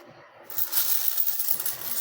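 Philippine peso coins clink against each other while being counted, a close, bright jingle of metal on metal that starts abruptly and continues in a steady rattle.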